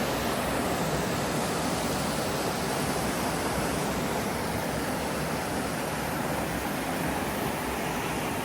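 A waterfall below a mountain hiking trail among pine trees gives a steady, even broadband rush. It is moderately loud and unbroken throughout, with no voices over it.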